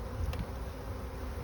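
A low, steady insect drone fills the moment, many honeybees buzzing together close by at an opened hive, with a brief brighter rise near the start.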